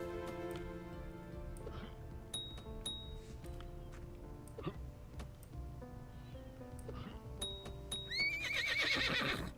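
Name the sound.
donkey neighing while hunted in the video game Vintage Story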